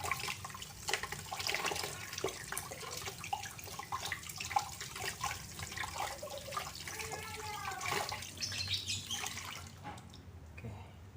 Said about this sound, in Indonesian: tinggal kita bilas pakai air mengalir